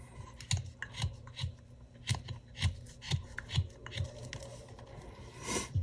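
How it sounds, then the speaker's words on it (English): A carving knife shaves a wooden gnome figure, cleaning up bandsaw marks: quiet, close, regular slicing cuts about every half second, each a short crisp scrape, with no talking. "I'll just kind of go around and clean up my bandsaw marks. Kind of round this off a little bit."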